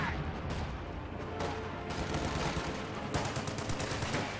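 Sustained gunfire from a WWII strategy video game battle with infantry, an anti-tank gun and a half-track, dense rattling machine-gun bursts and cracks layered in a continuous fusillade, no clear talk.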